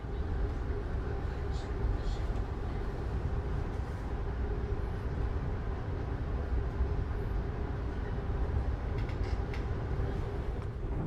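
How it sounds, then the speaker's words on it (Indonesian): Inside the Cakrabuana train pulling out of Purwokerto station, a steady low rumble and hum of rolling stock persists throughout, with faint rattles and occasional light squeaks. "kereta api Cakrabuana yang saya naiki sudah diberangkatkan dari stasiun Purwokerto"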